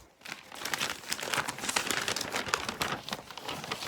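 A sheet of paper crinkles and rustles as it is handled up close, a steady, dense crackling that fills the whole stretch without any speech.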